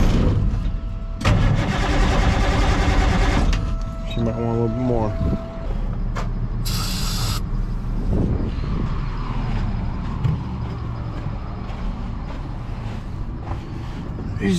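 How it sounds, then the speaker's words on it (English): Cold-morning cranking of an old Caterpillar 3208 diesel engine, a loud churning starter rhythm followed by rough, uneven running and rumble, with a person talking briefly amid the engine noise. "It's hard for these old diesels to fire up."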